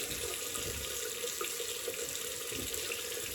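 Water from a tap runs steadily and continuously up close while a Ming Shi 2000s double-edge razor is rinsed of whiskers.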